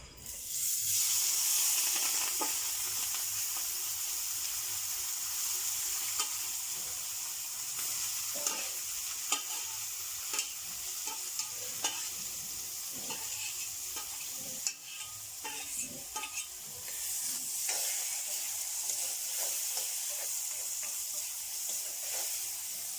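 Onion and garlic sizzle steadily in hot oil, with a continuous bright hiss and occasional soft clicks of stirring, close and fairly loud throughout with no talking.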